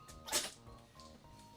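A pet named Jimbo gives a single short, sharp sneeze, close and sudden, followed by quiet with faint background tones.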